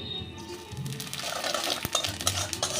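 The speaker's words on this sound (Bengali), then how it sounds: "তেজপাতা পাঁচফোড়ন খুব ভালো করে ভাজা হয়ে গেছে" Bay leaves and panch phoron spice seeds fry in hot oil and ghee, giving a steady, close sizzling hiss broken by the occasional clink of a utensil against the pan.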